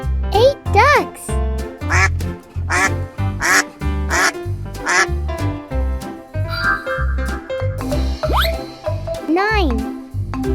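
Cartoonish farm-duck quacks repeat in a steady, evenly spaced beat over a bouncy children's counting tune, loud and upfront.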